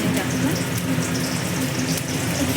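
Onions sizzle in a frying pan with a steady, dense hiss that fills the whole moment at close range.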